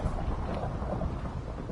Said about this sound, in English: Why is it thundering so much?